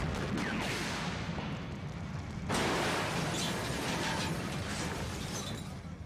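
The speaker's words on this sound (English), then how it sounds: "After successfully completing the cable car explosion, Bay turns to visual effects supervisor Hoyt" A staged film stunt explosion of a cable car on a cleared street, heard as a loud sustained roar and crackling rumble that surges sharply midway and stays dense and noisy to the end.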